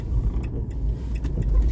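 Car interior with a low, steady engine rumble that swells slightly toward the end, along with faint clicks and jingling, close and moderately loud.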